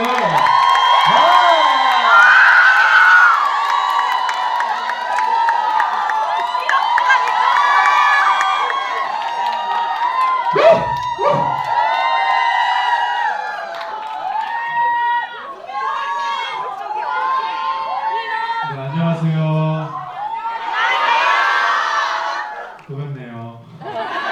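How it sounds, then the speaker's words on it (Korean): Audience applause and cheering at a stage greeting with the lead actors and director at a Korean film screening of Omniscient Reader: The Prophet; a loud, continuous crowd of clapping and shouts fills the whole stretch, with voices mixed in. "자, 그럼 박수 부탁드립니다"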